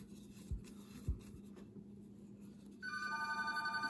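A telephone starts ringing near the end, a steady electronic ring in a quiet room following a few soft knocks and handling sounds during a loom knitting session.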